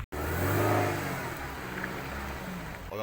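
A Suzuki Grand Vitara with its sway bar disconnected drives past with a mid-pitched engine hum that swells and then eases, fairly distant and without speech.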